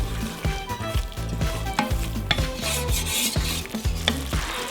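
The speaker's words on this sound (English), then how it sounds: "Just going to stir this up until it absorbs." Flour is stirred into hot oil and onions for chicken chili, a close, steady scraping and rubbing of a spoon against the pot in a regular rhythm over a soft sizzle.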